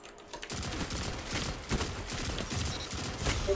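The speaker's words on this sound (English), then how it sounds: "this pulse rifle has me acting up" Pulse rifle gunfire in Destiny 2 rattles in rapid repeated bursts of sharp shots, fairly faint and continuous, with a steady rhythmic volley pattern throughout.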